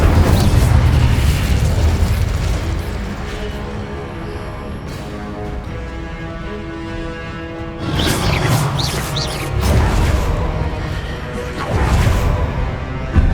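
The Incendio fire spell in the video game Hogwarts Legacy bursts with loud, heavy rumbling booms and whooshing flame, swelling in several waves over a dense battle soundscape.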